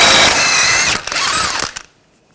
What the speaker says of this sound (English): Using a 32mm socket, take this nut off.